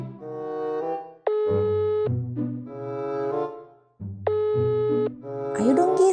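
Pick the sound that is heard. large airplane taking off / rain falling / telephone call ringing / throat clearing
telephone call ringing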